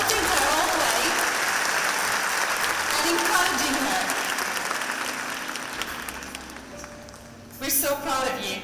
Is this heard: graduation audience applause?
yes